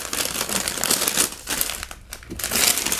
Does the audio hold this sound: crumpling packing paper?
yes